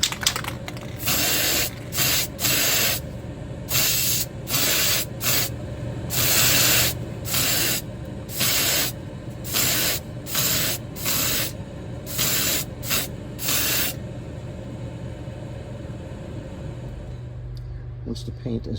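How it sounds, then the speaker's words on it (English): Spray paint from a can applied over dried liquid latex, a series of loud hissing bursts in a regular on-off rhythm, each lasting about a second, close to the mic before fading out. "With the latex dry, we can start adding some paint."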